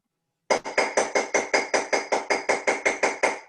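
Hammer lightly tapping a 6mm metal design stamp, a quick even run of about fifteen crisp, close metallic taps at a steady rhythm.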